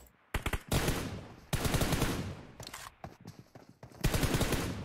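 Rapid gunfire from a video game during a tournament final match, loud close bursts of automatic fire with short pauses between volleys and scattered single shots.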